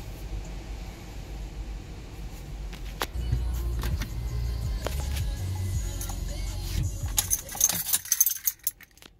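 Key turned to the on position in a 2018 Toyota 4Runner fitted with a remote start kit: quiet jangling of keys in the ignition, then a low hum as the vehicle's electrics come on, followed by several sharp clicks and rattles near the end.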